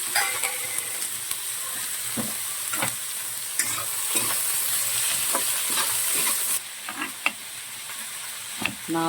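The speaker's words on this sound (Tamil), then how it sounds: "2 பூண்டு எடுத்து வச்சுருந்தோமே அதை போடுறோம். முழு பூண்டு 2." Two whole garlic bulbs and curry leaves fry in oil in a pan for mutton gravy, giving a steady sizzle broken by scraping stirs and occasional utensil clicks against the pan.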